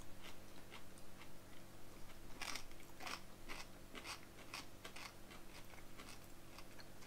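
Crisp bites and crunches of pickled red cabbage come close and quiet, a series of sharp, irregular crunches over several seconds with a faint background hum.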